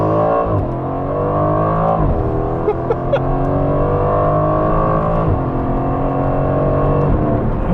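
A 2021 Aston Martin Vantage Roadster engine in Sport Plus mode roars loudly and continuously up close, its exhaust note rising and dropping through gear changes with a few crackles.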